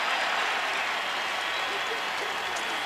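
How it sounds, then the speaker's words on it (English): Steady roar of a college football stadium crowd applauding a 20-yard gain at the 2013 Utah vs BYU game, a broad, even wash of distant clapping and noise. "that earns a nice round of applause"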